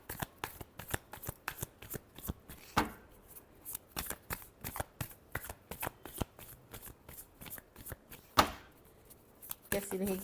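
A tarot deck is shuffled for a reading in a rapid train of crisp, riffling card snaps. Brief pauses break up the bursts, and soft speech can be heard in the background.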